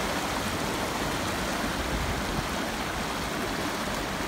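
River water flowing in a steady, dense rush, close and continuous with no pauses and no voices over it.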